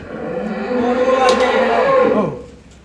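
A cow lowing at a dairy farm raising improved-breed milk cows and calves, one long, loud, close moo with a drawn-out harmonic tone that rises and then fades away.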